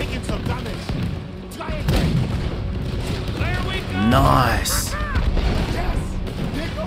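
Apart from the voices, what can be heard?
battleship cannon fire in video game Red Dead Redemption 2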